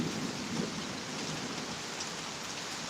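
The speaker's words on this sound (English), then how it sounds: "just started streaming the storm" A severe thunderstorm in Pittsburg, Kansas: dense, steady rain hisses across surfaces under a low, rolling rumble of thunder, with no one speaking.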